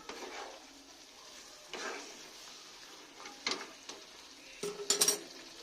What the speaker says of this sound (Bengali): এবার আমি একটু ঢাকা দিয়ে দিয়ে আমি কষে নেব